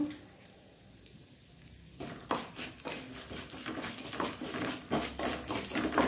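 Ingredients sizzle in a pan for a methi and shallot gravy, a quiet hiss that swells after two seconds into steady crackling frying with scattered pops and stirring scrapes close by.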